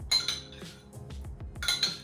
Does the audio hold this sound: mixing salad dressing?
yes